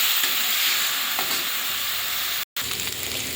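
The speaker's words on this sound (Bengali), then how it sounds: "লবণ হলুদটা দিয়ে এবারে আলুটা ভেজে নেব।" Potatoes seasoned with salt and turmeric fry in a wok, giving a steady, close, dense sizzle and hiss throughout, with one very brief dropout near the end.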